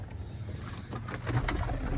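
Pigeons cooing low and soft, a murmuring rumble of calls close by with faint bird chatter around.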